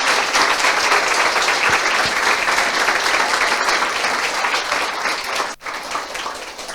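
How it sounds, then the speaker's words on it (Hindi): Church congregation applauding loudly for Jesus, a dense sustained wash of many hands clapping that holds steady and then breaks off briefly near the end before resuming. "ये आइए यीशु के लिए ताली बजाएंगे जोर से"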